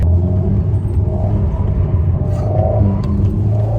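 An Alpine A110S sports car drifts in track mode, heard from inside the cabin as a steady, loud, low engine rumble with a droning tone and little change over several seconds.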